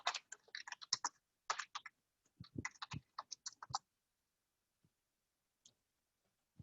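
Someone types on a computer keyboard in a quiet room: quick bursts of close, crisp key clicks and taps, a pause, another short burst, then a few isolated light clicks trailing off into silence.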